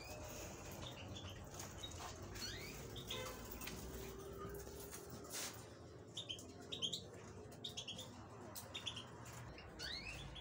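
Pet canaries chirp faintly against steady background noise, with quick high tweets clustering more densely toward the end.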